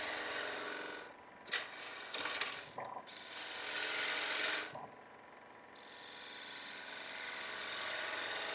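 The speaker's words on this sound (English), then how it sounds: "So I'm just going to go straight down with the gouge." Gouge cutting straight down into wood while a utility box is carved, close rasping scrapes in short strokes separated by pauses, followed by a longer steady scraping stretch.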